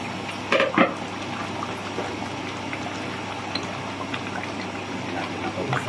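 A pot of kaldereta stew bubbles at a low, steady simmer, with a couple of louder knocks or clinks near the start before the gentle boiling carries on alone.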